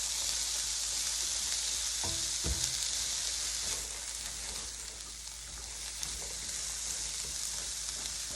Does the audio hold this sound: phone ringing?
no